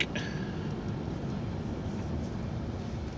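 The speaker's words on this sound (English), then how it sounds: "More traffic." Road traffic comes in through an open window as a steady, low broadband rumble with a faint higher swish near the start, continuous and moderately distant for the whole stretch.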